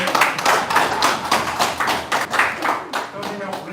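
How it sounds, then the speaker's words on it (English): Workshop audience at an education training event gives presenters a round of applause: rhythmic, somewhat synchronized clapping from a modest group, fairly close and loud, with faint voices underneath. "I think we'll first give them another round of applause."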